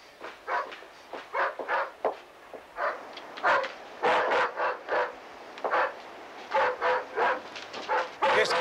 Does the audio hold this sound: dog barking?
yes